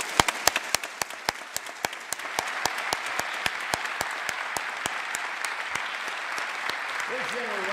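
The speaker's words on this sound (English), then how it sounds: "Let's give them a round of applause." An audience applauds the South Dakota National Guard during the 2015 State of the State Address, a steady round of applause with a few loud, sharp claps standing out near the front, sustained evenly throughout.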